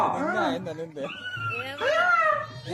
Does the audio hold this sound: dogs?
yes